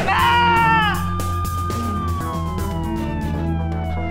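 Loud police car siren wailing steadily up close with a falling pitch sweep, over a dramatic music score, with a faint voice briefly underneath.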